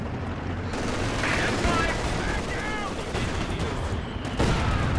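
Dense incendiary artillery barrage in Company of Heroes 2, a continuous loud rumble of explosions and crackling gunfire on a WWII battlefield, with faint voices and whistling shells mixed in.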